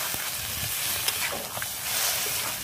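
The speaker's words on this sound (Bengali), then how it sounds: "ভালো করে মিশিয়ে নেবো" Chana dal curry with potatoes is stirred in a frying pan, making a steady soft sizzle with a few light scrapes and clicks of the spoon, heard close with no talking.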